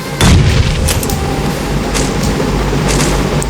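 A cooked grenade goes off in BGMI gameplay: one loud, heavy boom near the start whose low rumble lingers, followed by a few fainter distant blasts and game noise.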